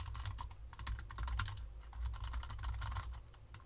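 Quick, steady keystrokes on a computer keyboard patter up close at a low level, an unbroken run of soft clicking with no voices.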